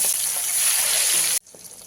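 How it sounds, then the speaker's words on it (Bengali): Pabda fish fry in hot oil in a pan, a loud continuous bright sizzle that suddenly cuts off and leaves only a faint quieter hiss. "এইভাবে একই পদ্ধতিতে বাকি মাছগুলো ভেজে নেব"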